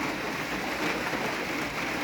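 Rain falling in rural Laos, a dense, even hiss of drops on surfaces that continues steadily without pause, with no voices.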